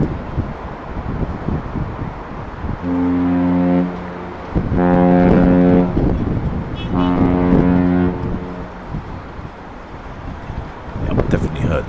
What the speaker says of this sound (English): That's a decent set of honks there for Aurora.